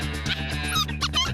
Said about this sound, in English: I'm playing the pup distress sound